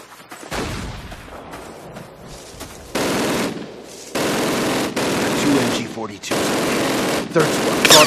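An M1919 .30 cal machine gun fires in Call of Duty's Normandy Route N13 and Brecourt Manor battle, with repeated bursts of automatic fire and gunshots sounding loud and close amid the combat din.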